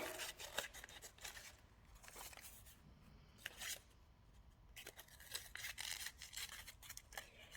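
Scissors snipping through paper for a Christmas tree collage, a string of quiet close cuts and rustles in bursts, with a short pause partway through.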